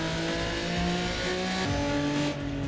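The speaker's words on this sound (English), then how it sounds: "Now here's a little straight, so let's go full throttle here." Race car in the AC EVO driving game accelerating at full throttle down a short straight, a steady loud engine drone rising through the gears with stepped pitch shifts, no voices.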